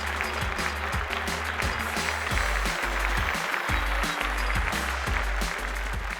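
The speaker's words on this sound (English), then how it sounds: "Please put your hands together." Dense, steady audience applause at a fashion show greets actress Huma Qureshi as a judge, carrying through the whole stretch under a loud, thumping music track with a repeating bass beat.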